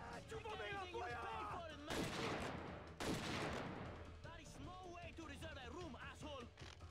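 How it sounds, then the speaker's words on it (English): Two loud bursts of shotgun fire go off in Scarface: The World Is Yours, a second apart, amid game dialogue and voices talking throughout. "Dude, the shotgun is amazing."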